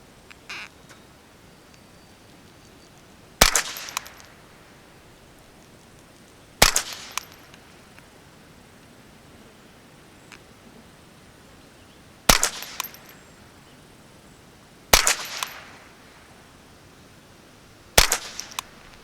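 A Ruger 10/22 rifle fires five single shots of standard-velocity ammunition, each a sharp crack with a short ringing tail, spaced a few seconds apart at an uneven pace, with quiet background between shots.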